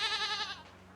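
A goat in the video game Reka gives a single wavering bleat, clear and close, that trails off after about half a second into quiet background.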